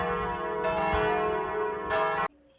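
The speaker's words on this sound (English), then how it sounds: "And bell tower," Church bells in a bell tower ring loudly and continuously, a dense, sustained peal of overlapping strokes that swells twice before cutting off abruptly, leaving quiet background.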